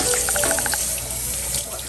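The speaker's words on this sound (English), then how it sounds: "And this is lukewarm water." A faucet runs lukewarm water into a sink for handwashing, a steady close hiss with a few bright splashing drips early on, no voices.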